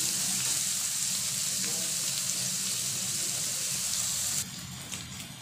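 Onions frying in a pan until lightly browned, a soft, steady sizzle that stays faint and quiets slightly toward the end.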